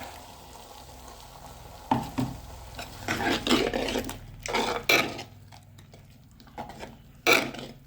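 Chopped vegetables for kalan sizzling in a pan while ground coconut paste is stirred in, with intermittent scraping and clattering bursts of stirring over a low steady sizzle, fairly close, no talk.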